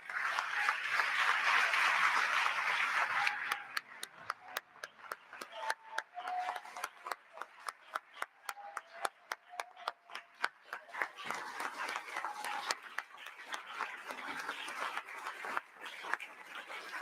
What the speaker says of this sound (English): Please join me in a round of applause for all of our awardees.